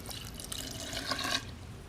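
Water is poured into a Hamilton Beach mini multi-cooker holding oats, a short, soft, close splashing trickle, alone with no talking.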